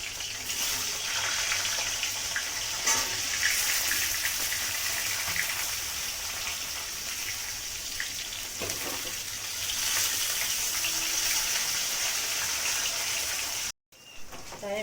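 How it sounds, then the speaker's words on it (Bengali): Pieces of pointed gourd (potol) fry in oil, producing a dense, continuous close-up sizzle like rushing water that holds steady for about fourteen seconds, with a brief dropout just before the end. "এর মধ্যে আমি পটলগুলো দিয়ে দেবো পটলটাও এইভাবে ভেজে নেবো"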